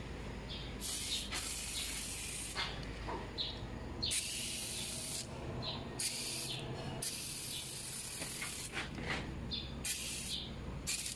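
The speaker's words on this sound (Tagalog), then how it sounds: "I-spray na natin sa makina to." Foam engine cleaner hisses from an aerosol can onto a car engine in repeated bursts, each spray lasting about a second with short pauses between, close and clear.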